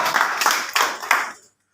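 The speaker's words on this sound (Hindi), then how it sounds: "एक बार जोरदार ताली होनी चाहिए" An audience at an educational workshop in Mumbai bursts into a short, loud round of hand clapping that fades out within about a second and a half.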